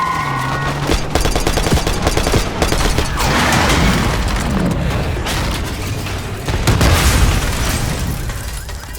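Heavy gunfire in a Call of Duty Black Ops 6 cutscene as a limo comes down the street, with loud rapid automatic bursts, sharp cracks and booming impacts layered over dramatic score, sustained throughout with no talking.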